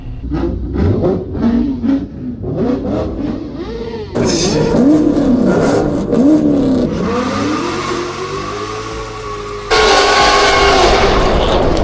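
A Mustang GT and a Camaro SS rev loudly on a Miami street: first in short choppy bursts, then long sustained roars that rise and fall, ending in a sudden louder blast of engine noise.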